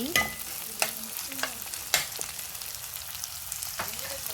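Frozen okra frying in a pan for prawn curry, a soft steady sizzle with a few sharp stirring scrapes and clinks, close and alone with no talk.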